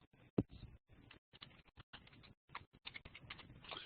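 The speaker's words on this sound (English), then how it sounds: "type sunyit.edu and hit return" A run of quick, irregular keystrokes on a computer keyboard as a web address is typed, close and fairly quiet, ending with a firmer key press.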